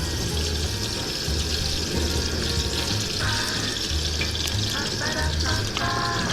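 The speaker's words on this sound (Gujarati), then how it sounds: "હવે આપણે પેનમાં નાખીશું તેલ." Oil sizzling and frying in a pan on a gas stove, a steady close crackle with stirring clinks and faint background voices.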